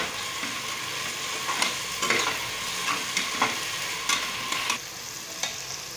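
Onion and masala paste sizzles steadily in hot oil for cauliflower biryani, with a spoon scraping and stirring in irregular strokes every second or so, close and moderately loud with no talking.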